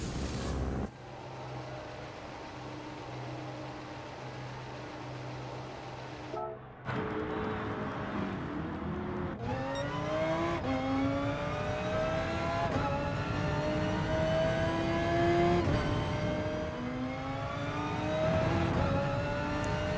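Race car engines in GT Sport during a manufacturers championship race, a steady drone that shifts into rising revs and repeated gear-change climbs, loud and continuous with no speech.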